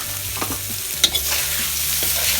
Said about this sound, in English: Now the thing with stir frying the noodles, you got to be pretty quick about it.